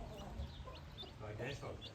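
A first-time mother hen, about one year old, clucks in short, repeated bursts over steady low background noise, with some faint voices nearby.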